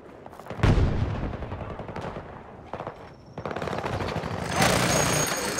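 A rotary minigun in a video game fires in several loud, rapid bursts with brief pauses between them, joined by heavier booming blasts.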